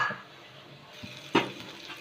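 Capsicum hisses softly in a hot pan while a spatula stirs it, with a couple of scraping knocks against the pan.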